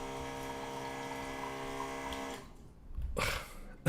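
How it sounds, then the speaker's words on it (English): An automatic household water pump runs with a steady droning hum rich in tonal harmonics, then cuts out, followed by a short burst of rushing water. "Sorry about the sound. I have this automatic pump."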